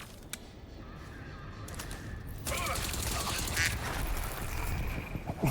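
A duck quacks during gameplay in Crysis 3 Remastered, faint honking calls over a busy bed of game ambience, distant gunfire and a turret battle, with no talk over it.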